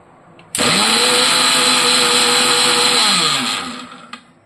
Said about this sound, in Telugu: ఈ మినపప్పు కూడా 75 గ్రామ్స్ ఇది కూడా మిక్సీ వేసేసుకుందాము